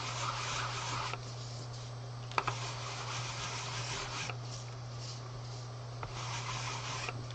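Craft paper stamped in pink ink being rubbed on its back, heard as a continuous close, scratchy rasp with a steady background hum and a few soft knocks.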